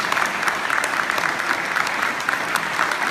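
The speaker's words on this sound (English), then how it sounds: "Let's have a round of applause for the winners" An audience at a Fort Belvoir town hall claps continuously for the winners, a dense, even patter of many hands, close and loud throughout.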